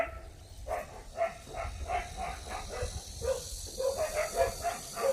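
Several dogs bark and yip in quick, uneven bursts while fighting over a glove, sounding scrappy and playful, over a low outdoor rumble.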